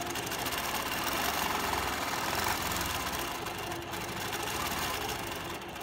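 A sewing machine stitching free-motion quilted stacked swirls runs in a steady, loud, close whir for the whole stretch, with no voices over it.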